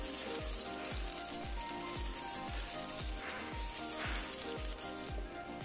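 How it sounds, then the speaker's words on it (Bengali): Chopped taro leaves sizzle in hot mustard oil with popped whole mustard seeds, a steady loud frying hiss broken by rhythmic low scraping strokes of a spatula about twice a second, with no voices. "সর্ষেটা ফুটে ওঠার পর, এই রং হওয়ার পর কুচি করা কচু পাতাগুলি দিয়ে দিচ্ছি"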